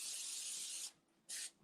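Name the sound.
spraying cooking spray into a baking pan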